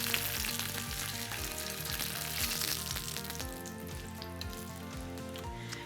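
Tuna seared in a hot pan with sesame: a steady, dense sizzle and crackle of frying, close and continuous, with a slight change in texture partway through and no talking.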